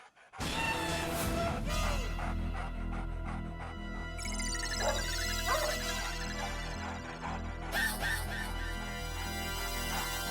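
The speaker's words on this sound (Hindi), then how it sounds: "तो कुत्ते की आवाज कहाँ से आ रही है?" A dog yips and barks repeatedly over a steady musical background, fairly close, with whimpering tones mixed in.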